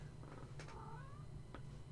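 Pet cat meowing close by at someone's feet indoors, a couple of short drawn-out meows over a steady low background hum, with no talking.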